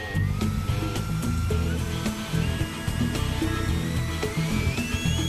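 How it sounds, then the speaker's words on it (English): A radio-controlled model jet's fan motor runs on a factory test station, a steady whining hum with rising tonal pitch lines over a dense low rumble and mechanical clatter, continuous and fairly loud. "It's now time to power up this motor at a test station."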